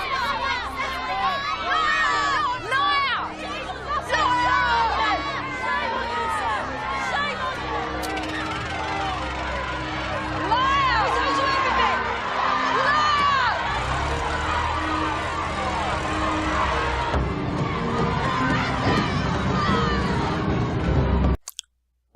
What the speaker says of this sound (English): the women in the crowd are fairly upset with the ruling and they become agitated